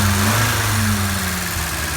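A Volvo Amazon engine idles steadily with its carburettors out of balance, a continuous low rumble with an uneven throb, fairly loud and close, with no voices.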